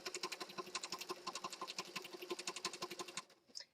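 Sewing machine stitching through a junk journal, a rapid rhythmic run of close mechanical clacks that stops near the end.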